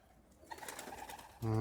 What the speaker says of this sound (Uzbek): Mana qushlar akalar.